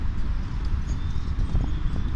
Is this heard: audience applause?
no